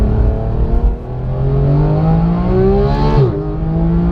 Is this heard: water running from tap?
no